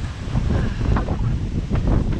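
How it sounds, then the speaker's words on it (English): Strong wind buffets the microphone in Denmark with a steady low roar and gusty rumbles, loud and constant throughout, with no one speaking. "I can't believe how windy it is."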